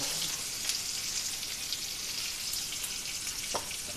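A ground masala paste with cumin hits hot oil for channa, giving a steady close frying sizzle with faint crackles and pops, alone and fairly quiet.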